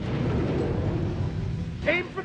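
Weapon fire and explosions from a Transformers Energon cartoon battle roll as a dense, loud rumble, with a sharp burst near the end; voices speak over the din.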